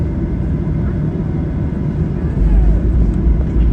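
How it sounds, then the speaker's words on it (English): An Air North Boeing 737-800 on its takeoff roll from runway 14 left at Whitehorse, heard from inside the cabin as a steady, loud engine roar that swells and deepens partway through. "here's our departure from Whitehorse off of runway 14 left"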